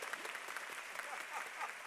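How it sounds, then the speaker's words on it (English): Applause from the crowd at a university graduate commencement rolls on as a soft, far-off continuous wash, with a voice faintly murmuring underneath. "Round of applause, y'all."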